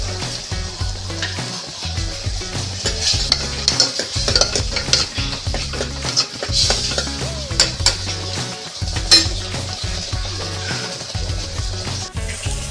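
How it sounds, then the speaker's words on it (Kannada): Green peas sizzle loudly in hot oil in a pan while being stirred for an Indian aloo matar (potato and pea) curry, with close, repeated scraping of a spoon against the pan over a constant fry. "ಹಸಿ ವಾಸನೆ ಹೋಗೋವರೆಗೂ ಹುರ್ಕೊಬೇಕು ಮತ್ತು ಈಗ ಬಟಾಣಿ ಆ್ಯಡ್ ಮಾಡ್ತಾ ಇದ್ದೀನಿ"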